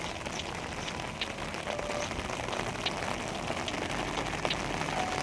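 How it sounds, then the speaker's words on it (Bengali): Heavy, unbroken downpour in Cherrapunji, a dense steady hiss of rain striking surfaces with no voices. "এক নাগারে মুসলধারে বৃষ্টি পড়ে যাচ্ছে বেশ জোরে বৃষ্টি পড়ছে"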